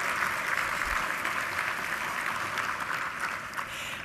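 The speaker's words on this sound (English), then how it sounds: "How about a big round of applause for you?" Around 800 guests at a kidney-charity breakfast fundraiser give a big round of applause. It forms an even, sustained wash of many hands clapping from start to finish, with no talking over it.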